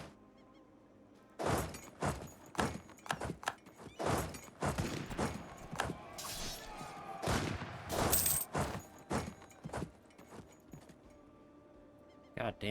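Heavy cannon fire in an Anbennar strategy game battle: a long run of sharp, loud booms in rapid irregular volleys, with a voice speaking briefly between them.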